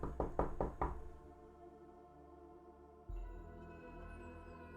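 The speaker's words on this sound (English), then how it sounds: "I can hear the knocking." Knocking on shelves: four quick, firm knocks in a row, close and clear, then a quieter lingering resonant tone carries on with no further knocks.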